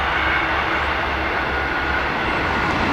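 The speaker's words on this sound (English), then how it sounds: "Train just going over." A train crosses a bridge beside an estuary harbour, heard as a steady, loud, broad rumble and roar that continues throughout without voices.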